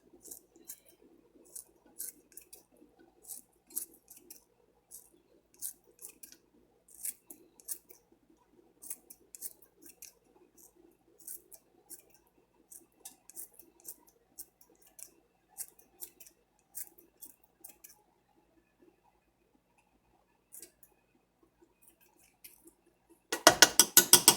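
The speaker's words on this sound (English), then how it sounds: "I'm just going to cut it up fine using these scissors." Quick, light snipping of scissors cutting fresh cilantro, repeating irregularly, small crisp cuts close up in a quiet room, ending with a brief louder clatter.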